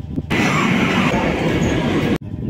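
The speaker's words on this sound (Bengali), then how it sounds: "ছেড়ে দিল ট্রেন শ্যামবাজার থেকে" A metro train rumbles loudly as it pulls away from Shyambazar station in Kolkata, a steady roar of wheels and motor that cuts off abruptly near the end.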